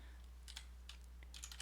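Quick, light keystrokes tap on a computer keyboard in a short irregular burst over a steady low hum, close and fairly quiet with no talking.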